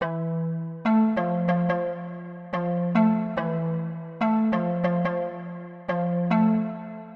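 UK drill beat melody built from a Harmonies preset: a bright, bell-like synth playing plucked chords in repeating phrases with sliding low notes underneath, clean and upfront with no voices.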